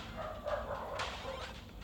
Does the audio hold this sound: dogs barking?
yes